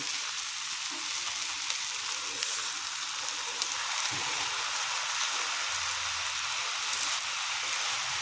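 Tomatoes frying with roasted masala to build a gravy: a dense, even, rain-like sizzle that holds steady throughout, with only faint stirring taps beneath it.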